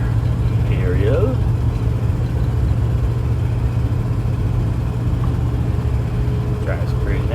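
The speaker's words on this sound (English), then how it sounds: "Out for a drive in the 64 Imperial." A 1964 Imperial Crown cruises along, its engine a steady low hum with road noise throughout, holding even and constant with no talking over it.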